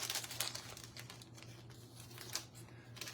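Paper being cut apart with scissors, a transfer sheet trimmed for a watercolor sunflower craft, giving soft close crinkling and snipping rustles in quick irregular bursts over a faint steady hum.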